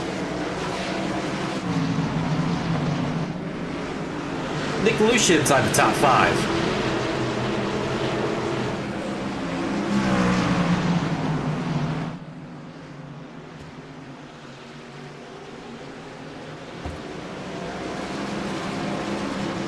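Stock racing trucks lapping North Wilkesboro Speedway, a steady engine roar that rises and falls as the field passes, with a commentator talking over it throughout.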